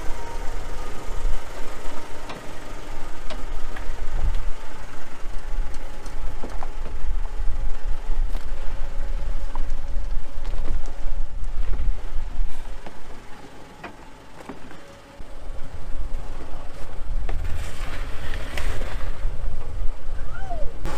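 A farm tractor engine runs steadily while hauling loaded tomatoes, a loud continuous rumble with rattling and clanking from the machinery, dipping briefly before rising again.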